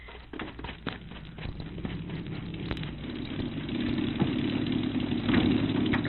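A car engine idles steadily at close range, a low continuous rumble that grows slightly louder toward the end, with no voices over it.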